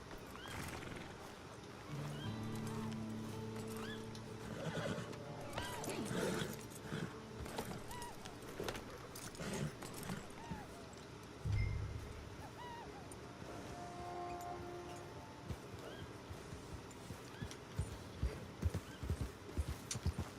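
Horse hooves clip-clop steadily while a horse whinnies and snorts, with faint ambient tones and scattered clatter behind.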